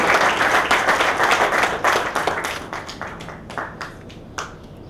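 A film festival awards audience applauds the jurors, starting as dense clapping close by and thinning out into scattered, individual claps that fade over a few seconds.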